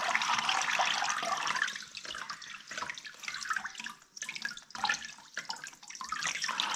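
Steady splashing trickle of water falling from a wet, heavy 1200GSM microfiber car drying towel into a basin, continuous and fairly close, easing into softer intermittent drips and patters.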